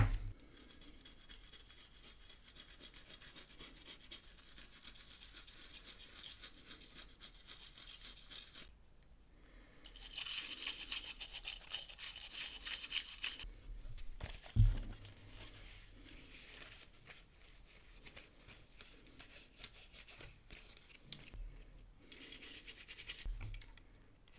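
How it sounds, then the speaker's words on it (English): A toothbrush scrubs the casing of a GameBoy being cleaned, giving steady close scratchy brushing with louder bursts and short pauses between strokes. "And a nice toothbrush as well. So let's get cleaning this."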